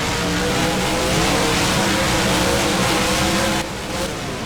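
Monster trucks, an Escalade and Scorcher, launching off the starting line together in BeamNG, a loud continuous roaring engine drone that holds steady before dropping slightly at the end.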